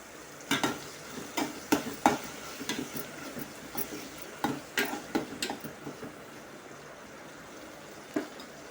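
Chopped onion with a little salt sizzling and frying in a pan, with repeated sharp stirring clicks of a utensil scraping against the metal over a soft, steady sizzle.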